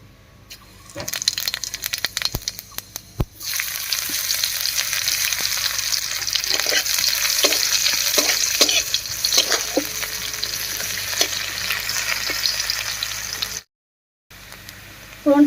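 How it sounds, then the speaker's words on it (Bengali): Whole cumin and chopped onion hit leftover fish-frying oil with a sudden loud sizzle that settles into a steady, close crackle with rhythmic stirring scrapes, preceded by a few utensil clinks and broken by a brief gap near the end. "এবারে মাছ ভাজার এই তেলের মধ্যেই ফোড়ন দেব আর ফোড়ন দেব গোটা জিরা আর পেঁয়াজ কুচি দিয়ে"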